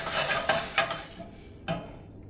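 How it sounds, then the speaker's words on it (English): Burger patty frying in a pan with a soft continuous sizzle, broken by a few sharp metallic scrapes and clinks of a spatula against the pan, close and fairly quiet. "this burger is nice and like not really cooked yet, but it's being nice and cooked on this good old pan here"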